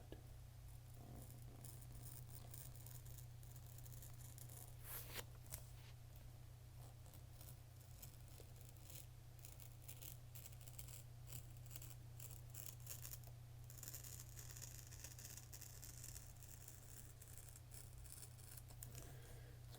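Scissors snipping through a glossy magazine page in a quiet room, a few soft crisp cuts spread over a steady low hum of background noise.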